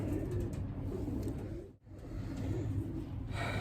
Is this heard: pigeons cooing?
yes